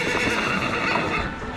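A horse pulling an overloaded cart on a busy Indonesian island street whinnies loudly and close, its hooves clip-clopping beneath the call.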